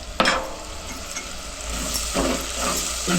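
Spiced vegetables with Malvani masala stirred in a hot pan, a steady close sizzle of frying broken by a few scraping stirs of the spoon.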